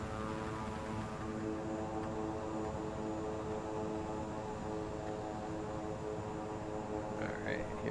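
A propeller aircraft engine drones steadily with a low harmonic hum while the plane taxis on the ground in Microsoft Flight Simulator 2020 during a tropical storm, continuous and unchanging throughout.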